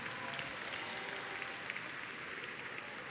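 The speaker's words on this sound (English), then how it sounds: "give them a round of applause, a well-deserved round of applause" A dense, steady round of applause from an audience honouring graduating seniors at a university athletics award show, sustained at even loudness throughout.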